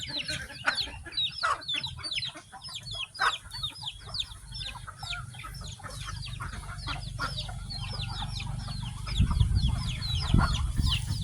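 A flock of chickens clucking close by, a dense stream of overlapping short clucks with a low rumble building underneath near the end.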